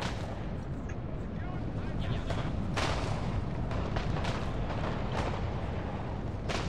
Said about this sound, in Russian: Пушки, пушки, давайте.